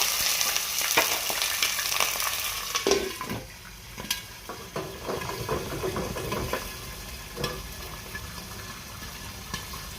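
Water hits a hot pan of white beans and sizzles loudly, then settles into a steady crackling fry with scattered pops and a few clinks.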